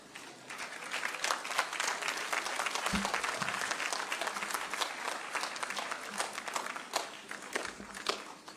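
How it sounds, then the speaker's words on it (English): A large audience at a university event applauds as a speaker is welcomed, a moderately distant, continuous patter of many hands with a few louder individual claps and light shuffling from people rising. "Let us all rise and welcome His Excellency with a clap."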